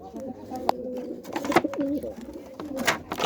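Pet pigeons coo in low, rolling bursts with sharper calls and scuffling, moderately close, and a little background voice at times.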